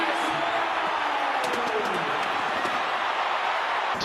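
A dense, continuous roar from a rugby stadium crowd cheering a Springboks penalty try against Ireland. The loud, steady crowd noise fills the whole stretch, with a voice faintly underneath.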